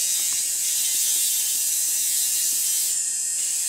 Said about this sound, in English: you can see now how using this sander really, really smoothed it out